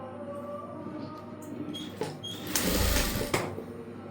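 Sewing machine stitching a back-open, front princess-cut blouse, a soft steady whir with quick mechanical clicks, growing louder and busier midway before easing off, close and on its own.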